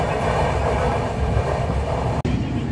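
The Konark Express pulls into Rajahmundry station, a loud, dense roar of rolling carriages and track noise heard from inside the train, broken by one brief dropout near the end.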